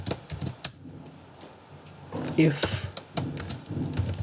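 Computer keyboard typing code for a web database project: scattered sharp key clicks in short bursts, close and moderately loud, with someone speaking over them.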